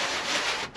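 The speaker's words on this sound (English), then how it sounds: "wipe it all off." A brief, steady rubbing swipe of a cloth over a new vinyl floor in a Toyota FJ45 RV, close and even, with no talk.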